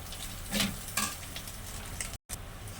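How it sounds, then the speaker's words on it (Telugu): Food frying in a pan is stirred and mixed with salt, giving a low, steady sizzle broken by a couple of brief scraping and clinking stirs, close and quiet, with no voices. "సాల్ట్ అయితే చేస్తున్నాను అంతా అయితే ఇలా కలిపేసుకుంటాను"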